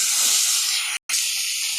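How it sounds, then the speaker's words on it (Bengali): Water poured into a pan of frying green chili and cumin paste for a raw-banana and rohu fish curry, a loud close burst of hissing steam that breaks off abruptly, then resumes more softly. "এবার আমি জল দিয়ে দেবো"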